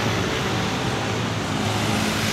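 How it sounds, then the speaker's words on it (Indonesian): A trailer truck hauling a 50-ton load of heavy equipment rumbles past with a steady broadband roar of engine and road noise, loud and continuous throughout. "truk trailer"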